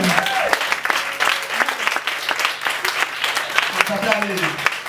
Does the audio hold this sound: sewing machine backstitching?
no